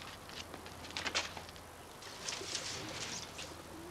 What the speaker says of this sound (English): A fancier. One who races pigeons.